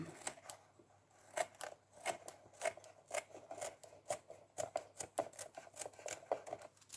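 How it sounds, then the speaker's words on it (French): Scissors cutting through a box, heard as a quiet, close series of crisp snips at an uneven pace. "On va le découper ici."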